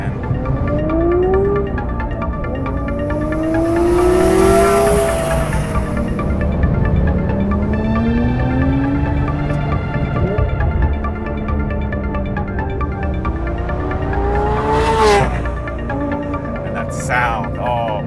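A Porsche 997.2 GT3 RS engine pulls hard while driving, its pitch climbing through several repeated rev sweeps, loud and close, with a faint voice underneath at times.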